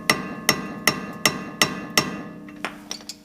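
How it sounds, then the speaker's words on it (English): A hammer drives a sturdy Phillips screwdriver into a brake caliper screw during rear bearing work on a 2008 Honda Civic. Six evenly spaced, ringing metallic taps sound up close, followed by a few lighter knocks. "First I get my nice beefy Phillips and I tap it in there."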